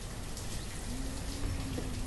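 Steady rain from the weather effect in the video game Banished hisses softly and evenly throughout, a faint, continuous patter of drops with no voices.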